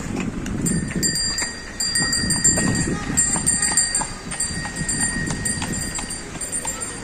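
Hooves clip-clop steadily on a hard surface, with a bell-like jingle ringing over them and murmuring voices in the background.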